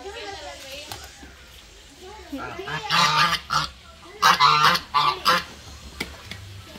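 Several loud honking duck calls burst out in quick succession, close by, following a stretch of soft vocal sounds.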